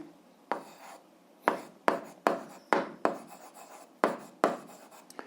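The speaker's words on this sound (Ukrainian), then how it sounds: "Записуємо" Chalk or pen writing an answer on a board during an eighth-grade algebra lesson: a run of about eight short scratchy strokes, close and distinct, with small pauses between them and no talking over them.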